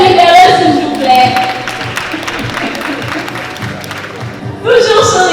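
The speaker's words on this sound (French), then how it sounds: "Applaudissez Michel-Ange, s'il vous plaît." An audience at a graduation ceremony applauds a graduate, steady clapping under a loud announcer's voice, swelling again near the end.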